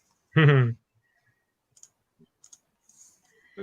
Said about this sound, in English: They feel great, these dice. Oh, heavy, shiny click-clacks.